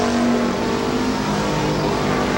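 Race cars roar together down the straightaway of the Midvale Speedway oval, a loud, steady, dense engine drone held near and continuous with no break.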